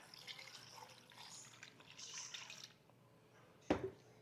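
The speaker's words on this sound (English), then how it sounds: "We're going to add some more water" Water poured into a crock pot of chopped beef fat being rendered into tallow: soft uneven splashing and trickling that fades, then one sharp close knock or drip near the end.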